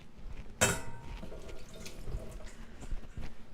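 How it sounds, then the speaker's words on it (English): Water runs from a kitchen tap into a pot for boiling potatoes, a soft continuous splashing stream with a sharp clatter near the start and small knocks throughout. "So let the water go in here."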